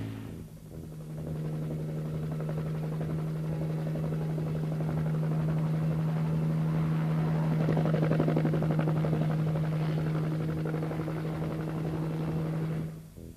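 A sightseeing helicopter over Carnarvon Gorge drones steadily with a strong low rotor hum and engine buzz, loud and close throughout, with no voices.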